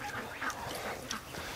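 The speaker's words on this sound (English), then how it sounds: "our little dehydration duck is still alive" A duckling in a hatching brood gives soft quacking calls over a busy, noisy background, the calls moderately close and continuing through the short stretch without anyone talking.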